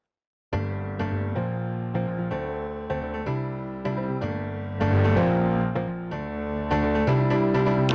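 A clean piano loop plays a flowing melody over chords, steady and close, with a busier, slightly denser passage in the middle and no voices.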